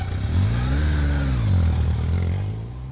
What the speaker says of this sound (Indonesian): aku menyalakan motor terburu-buru dan tanpa menoleh lagi. Aku melesat pergi meninggalkan tempat itu secepat mungkin.